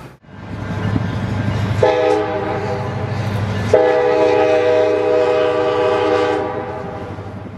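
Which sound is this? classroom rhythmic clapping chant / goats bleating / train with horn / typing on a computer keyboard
train with horn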